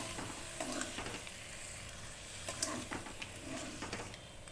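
Fried tiger prawns being gently stirred and sautéed with spice paste in a pan, a soft steady sizzle with light scraping and clinking of a spoon throughout.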